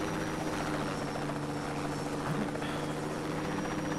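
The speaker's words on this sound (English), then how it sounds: "I'll take this helicopter and then look for a plane that way." Steady, loud helicopter rotor thrum and turbine whine from Just Cause 2, continuous and close throughout, with no talking.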